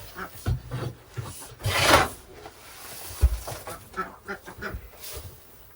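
Fresh wood shavings poured and tipped into a nearly full container, giving a series of soft rustling, rasping swishes with light thuds, close and fairly loud, with no talk.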